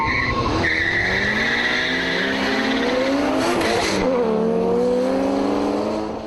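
Two cars, a Toyota Supra and a Nissan Bluebird, race off the line with loud engines revving and climbing through the gears while tyres squeal, continuous and close throughout.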